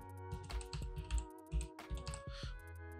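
Typing on a computer keyboard nearby, a quick irregular run of crisp key taps and clacks heard alone.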